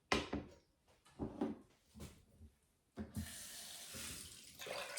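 Water pours steadily from a kitchen tap into a pot for pickling brine, a continuous rushing stream after a few light knocks and clatters, close by with no talking.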